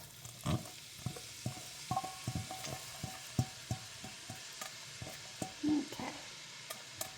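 Vegetables for a ham, potato and corn chowder go into a hot pan and fry with a soft, steady sizzle, broken by repeated clacks and stirring scrapes of a utensil against the pan; a single brief word is spoken.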